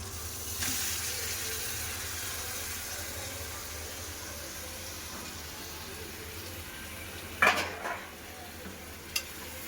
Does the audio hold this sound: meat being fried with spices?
yes